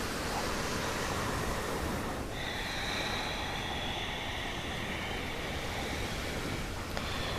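Ocean surf off Maui, Hawaii washes in a steady, broad hiss of breaking water, continuous and fairly faint, with a thin high whine drifting over it partway through.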